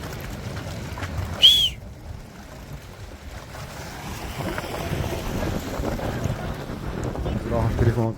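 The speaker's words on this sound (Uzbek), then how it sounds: "Kvadrotsikllar saylidan keyin ana endi ikkita Yamaha motorli Skarasnoy kater." A speedboat with two Yamaha motors runs on open water, its steady engine drone and hull wash mixed with gusty wind buffeting the microphone, rising slightly toward the end, with one brief sharp chirp early on.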